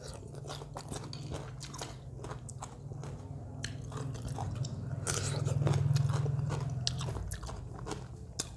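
Close-up crunching and chewing of fresh shrimp and crab, a rapid series of crisp bites and wet mastication over a low hum, rising slightly in the middle before stopping abruptly.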